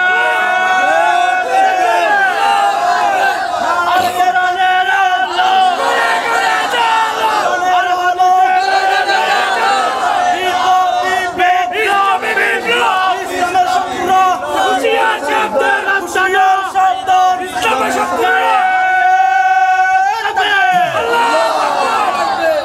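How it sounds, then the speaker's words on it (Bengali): A large crowd at an Islamic religious sermon gathering in Chattogram, Bangladesh roars a religious slogan in unison, loud rhythmic call-and-response chanting that surges in repeated waves, voices massed and reverberant throughout. "দুহাত উঁচু করে আল্লাহকে একটা স্লোগান দিয়ে দেখান"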